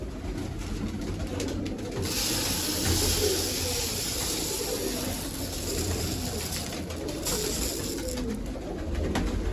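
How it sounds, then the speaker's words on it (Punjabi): Dense, steady background of pigeons cooing and fluttering while being fed grain, with a constant low murmur and hiss running through the whole stretch without pause. "ਹੁਣ ਪਾਉਣੇ ਦਾਣੇ ਕਬੂਤਰਾਂ ਨੂੰ"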